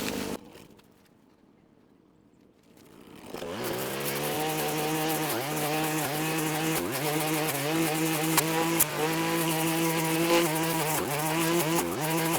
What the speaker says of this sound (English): which is why we're using the Strimmer instead of that